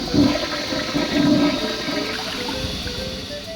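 A toilet in the Leisure Suit Larry 6 video game flushes loudly with rushing, gurgling water that keeps churning steadily as it backs up.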